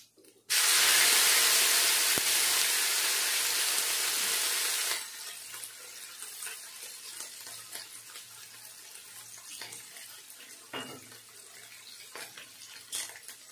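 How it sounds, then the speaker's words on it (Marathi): Garlic and chilli paste hits hot oil with crackled cumin in a kadhai, cooking for gram-leaf bhaji: a loud, dense sizzle bursts up and holds for about four seconds, then settles into a quieter, uneven crackle. "आता लसूण आणि मिरचीची पेस्ट घालते।"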